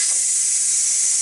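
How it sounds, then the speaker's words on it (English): A pressure cooker on quick release vents steam in a loud, steady hiss that holds without a break. "I'm going to give it a quick release, and it's going to take about 10 or 12 minutes for it to release all the steam"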